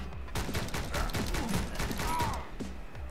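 Rapid bursts of gunfire in the video game Speed Limit, a dense run of sharp repeated shots with mechanical clatter, loud and continuous throughout.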